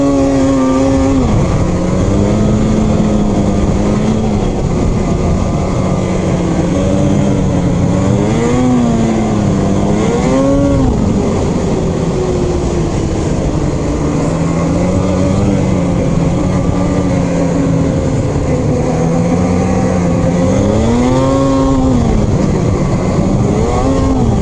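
An Arctic Cat Riot and a Polaris 850 Patriot snowmobile ride together on a late-season run in March. The engines drone loudly and continuously, rising and falling in pitch as the riders throttle up and back off, with no voices.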